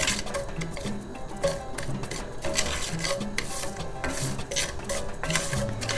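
Rice toasts in a tablespoon of hot oil while a spoon scrapes and stirs it around the pan for restaurant-style Mexican rice, with rhythmic scraping over a soft sizzle, near and steady, with no talk.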